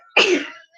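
A single sharp, close sneeze bursts out and fades within half a second.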